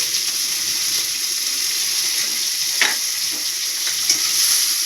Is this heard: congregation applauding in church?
no